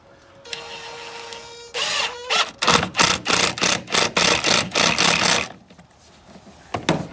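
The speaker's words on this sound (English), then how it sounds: "we'll put 1/2 inch wood screw with number 2 Robinson" A 1/2 inch wood screw is driven in with a power driver on a 2003-2007 GMC Savana headlight mount, producing a loud, close whirring that starts with a rising whine and then pulses in rapid bursts before stopping.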